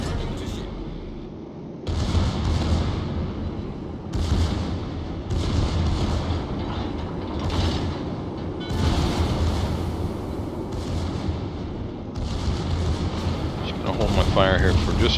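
Heavy battleship guns boom repeatedly in a naval combat game, long rumbling salvos in a fairly regular rhythm, loud and close, with a short quiet gap before they begin.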